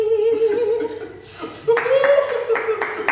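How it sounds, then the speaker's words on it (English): An audience applauds a performance, with scattered clapping and laughter building after a sustained singing voice. The clapping rises midway and continues under the voice at moderate loudness. "They're applauding."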